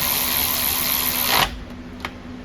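A power tool whirs continuously while tightening a bolt on a Toyota Corolla front strut assembly, then cuts off abruptly, followed by a faint metallic click.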